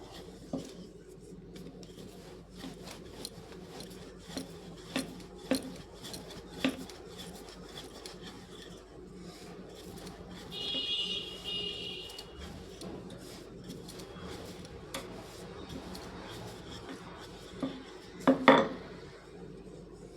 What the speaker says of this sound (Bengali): আরও একটা বেলে নিচ্ছি, দেখুন